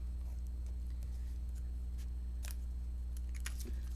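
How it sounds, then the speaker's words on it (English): Scissors snip around a piece of Gorgeous Grape card stock in a quiet room, with a few soft, crisp cuts and rustles over a low steady hum. "And I just cut around it."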